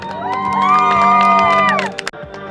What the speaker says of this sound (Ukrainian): Подорожки до гори, кричимо ура!